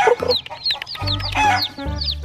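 A dyed rainbow-colored chicken clucks in short, bright bursts close by, with a lower continuous tone underneath in places and no speech.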